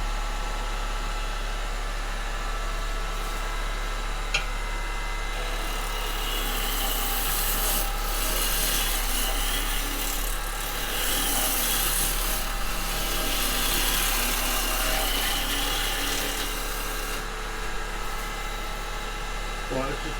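A woodturning gouge roughing down a log on a lathe makes a steady, continuous scraping and rubbing hiss that swells louder in bursts as the tool takes its pass, under a low motor hum.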